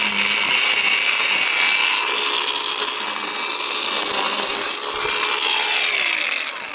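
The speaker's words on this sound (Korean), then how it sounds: "이게 전기톱으로 하는 게 사실은" Electric chainsaw cutting through multiflora rose branches during topiary pruning, a loud, steady high-pitched whine and rasp of the chain biting wood, running continuously with slight changes in pitch as the cut progresses.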